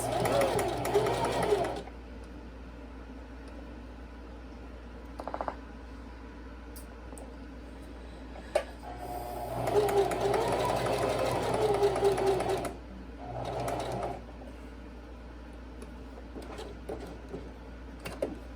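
A sewing machine stitches a fabric face mask in bursts of steady mechanical whirring, separated by pauses with quieter handling sounds and a person talking.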